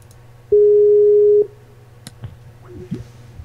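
A telephone busy signal follows the dialing of a call, a single loud steady tone lasting about a second, then soft clicks and faint handset noises.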